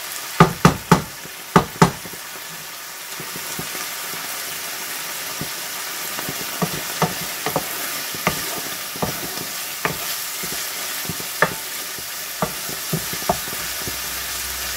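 Onions sizzle in a hot pan with a steady, close frying hiss, broken by several sharp utensil taps at the start and scattered knocks and scrapes against the pan, with no one speaking.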